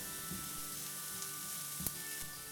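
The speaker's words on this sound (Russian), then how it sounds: "Когда масло хорошо нагреется, обжариваем на нем лук до полуготовности. Добавляем чеснок и обжариваем еще пару минут." Onion and then garlic frying in hot oil in a pan for a Bolognese sauce, giving a steady, soft sizzle with a few faint clicks of stirring, heard alone without talk.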